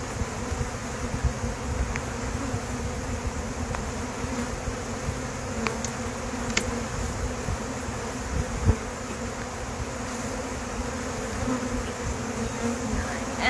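Honey bees buzzing around an open hive, a dense, continuous hum of many insects close by, with occasional brief clicks and knocks of hive handling and no talk.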